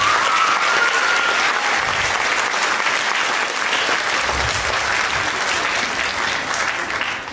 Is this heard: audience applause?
yes